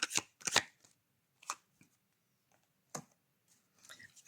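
Tarot cards are shuffled and drawn, giving a few sharp riffling bursts followed by sparse, soft single snaps and slides of cards on a quiet table.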